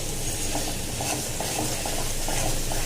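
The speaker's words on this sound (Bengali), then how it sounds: "এর মধ্যে আদা বাটা দিয়ে কিছুক্ষণ ভেজে নিয়ে" Ginger paste fries in a pan with a dense, continuous sizzle, steady and close, with faint intermittent stirring clicks underneath.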